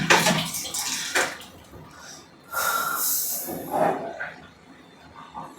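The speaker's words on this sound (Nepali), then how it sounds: "अब मैले यसको चाहिँ सर पानी फाल्छु" Water is poured off boiled tomatoes in several splashing gushes, some longer and louder than others, with brief pauses between pours.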